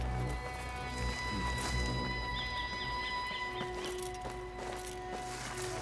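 A horse in Assassin's Creed Mirage clops along with repeated hoofbeats over sustained background game music and ambience, with faint murmuring voices.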